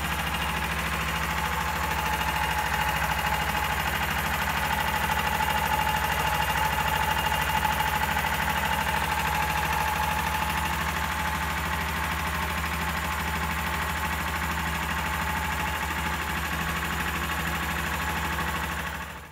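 A 420 cc Predator small engine converted to EFI runs steadily for the whole stretch, a loud continuous idle with a fine, even firing rhythm and no pauses.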